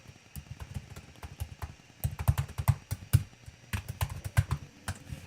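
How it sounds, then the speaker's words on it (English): Typing on a computer keyboard while entering a school email address, a brisk, close run of key clicks that comes in uneven bursts and grows louder and busier halfway through, with no talking. "type in your school email address."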